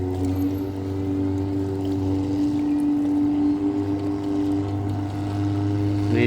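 Small boats on the Chao Phraya River in the evening give a loud, steady, droning engine hum that carries on unbroken throughout, with a faint watery wash beneath it.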